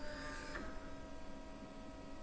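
A 3D printer gently probing each nozzle during bed levelling produces a steady, quiet motor whine with a faint tick partway through, under a constant low hum.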